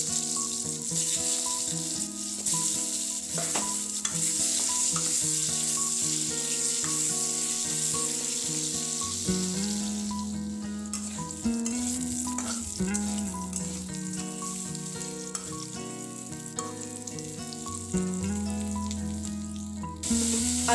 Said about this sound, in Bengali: এখন কেটে ধুয়ে পরিষ্কার করে রাখা আলুগুলোকে ভেজে নিচ্ছি।